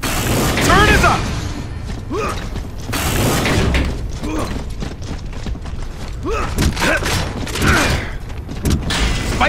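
Spike barrier fortification being repaired in Gears of War 3 Horde mode, a busy run of mechanical clanks, ratcheting and metallic creaks with rising whooshes, loud and close, under faint game voices.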